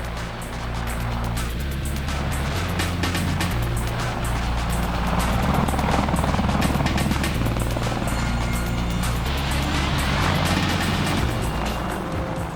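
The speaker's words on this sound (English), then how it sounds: "The Apache aircraft was designed to be a heavy attack platform for the Army." An Apache attack helicopter, an Army heavy attack aircraft, flies with a steady, loud rotor and turbine drone that holds constant throughout, with no talk.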